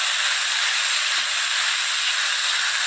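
Bitter gourd and potato fry together in a pan, giving a steady, loud, unbroken sizzling hiss with no pauses.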